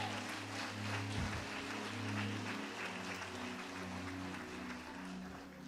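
Worshippers applaud to God during a sermon on prayer, a sustained rustling mass of handclaps carried over low held keyboard chords that shift pitch in the background.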